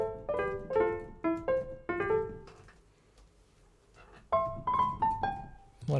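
Pianoteq piano plugin set with low impedance and short string length gives short, plucky, bell-like melodic notes in bursts, with a pause in the middle before another phrase, close and moderately loud.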